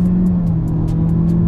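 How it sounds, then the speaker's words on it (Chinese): A 2022 Honda Civic FE's engine hums steadily while driving, a smooth, low, even drone with a sustained tone, heard up close from the cabin with no talking. "反正觉得这个引擎的声音听了很爽"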